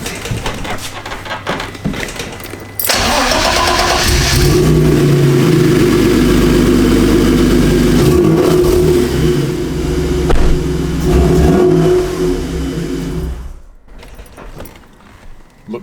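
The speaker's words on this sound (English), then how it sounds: "will the car still start now the ECU map's been changed?" BMW E30 with a swapped M52 engine running a newly changed ECU map, cranking and catching, then revving loudly and steadily up close for around ten seconds before settling and cutting off.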